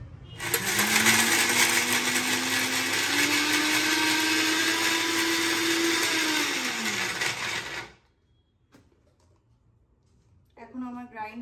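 A mixer grinder blends bananas into a sugar-free ice cream milkshake, roaring loud and steady for about eight seconds while its pitch shifts slightly as the load changes, then winds down abruptly, followed by quiet and a brief voice at the end.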